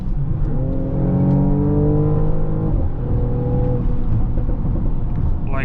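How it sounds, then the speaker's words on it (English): 2021 Mercedes-AMG GLE 53 Coupé under full-throttle acceleration, a loud, close engine roar rising in pitch through the revs, then a gear change and further climb, heard from inside the car. "If you want just full acceleration, then you can just smash your feet onto the throttle."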